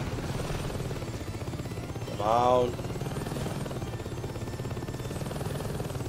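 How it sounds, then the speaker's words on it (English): A helicopter's rotor thumps in a steady, rapid rhythm throughout in Saints Row 2, while a person briefly speaks over it partway through. "I like this helicopter."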